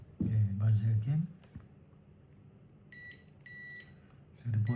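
A digital multimeter on continuity setting gives two short electronic buzzer beeps in a row while probing an Olympus OM-1 camera battery contact, placed between stretches of someone talking.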